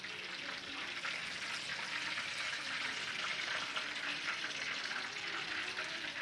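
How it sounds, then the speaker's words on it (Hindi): Chicken chargha frying in a pan on its second side, giving a steady, dense hiss of sizzling oil that holds even and fairly loud throughout with no pauses. "अब दूसरी साइड से भी ऐसे 5 मिनट आप और फ्राई कर लें।"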